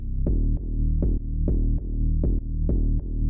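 A clean synth bass from Analog Lab Pigments plays steady sustained notes with soft plucked attacks that retrigger in an even rhythm, deep and warm, alone and moderately loud.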